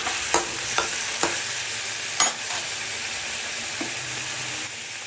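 Boiled broad bean pods tipped into a hot pan with oil and dried red chilli, a loud, close, continuous sizzle broken by several sharp spatula clacks against the pan.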